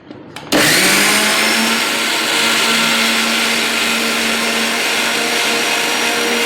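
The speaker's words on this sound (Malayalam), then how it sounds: "ഇനി നമുക്ക് ഇതെല്ലാം ഒന്ന് അരച്ചെടുക്കാം" A kitchen mixer grinder grinding coconut with turmeric, chili and cumin starts abruptly after a short quiet moment, then runs as a loud, steady, close whirring drone with a faint pitch rise, no talking.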